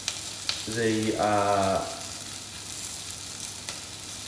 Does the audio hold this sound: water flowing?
no